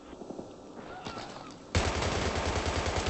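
Sustained automatic gunfire erupts suddenly mid-clip in a Battlefield 3 multiplayer squad deathmatch, loud rapid bursts continuing to the end after a quieter stretch with faint voices.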